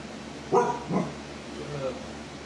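A dog barks twice in quick succession, fairly close and sharp, followed by a quieter low whine or murmur.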